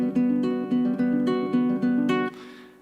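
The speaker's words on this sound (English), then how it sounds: "you play it in the order 2, 3, 1, 4, 1, 3." A ukulele is picked string by string in a repeating 2, 3, 1, 4, 1, 3 pattern, giving an even, rolling run of bright plucked notes, close and clear, ending on a short fading ring.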